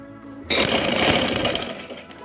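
Sewing machine stitching the lining of a kameez starts after a quiet half second, then runs in a fast, close, steady whir until the clip ends.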